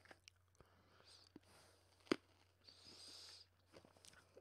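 Faint, close chewing of crunchy cherry-flavored retro candy with soft crunches and clicks, one sharper crunch standing out in the middle, over a quiet low hum.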